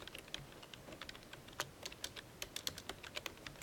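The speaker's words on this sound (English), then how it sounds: "I'll type this in." Typing on a computer keyboard, a steady run of quick, crisp key clicks with uneven rhythm and a few louder strokes, fairly close and alone without talk.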